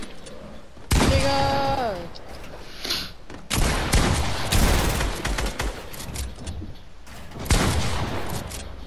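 Gunfire bursts in the Fortnite battle royale video game, several loud broadband volleys with rattling fire clustered near the start, middle and end, mixed with game effects and voices talking over the action.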